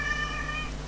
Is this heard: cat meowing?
yes